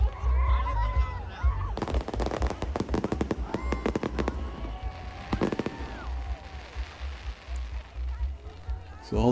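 New Year fireworks burst over a street lined with bars at Whiskey Row, Arizona, in a dense crackling volley in the middle of the clip, then thin out into scattered pops over crowd murmur and voices.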